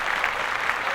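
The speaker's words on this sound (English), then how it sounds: "I want to give one more round of applause to Jennifer Lewis" A live audience claps for a guest on a comedy talk show, a brief steady patter of applause with no voices over it.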